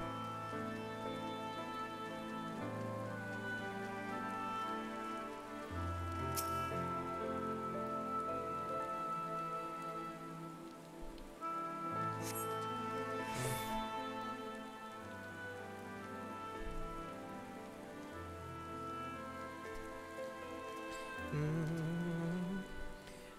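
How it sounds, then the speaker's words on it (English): Rain falls in the Final Fantasy XIV game world, a soft, continuous patter running steadily beneath the game's melodic background music throughout. "And it's still raining."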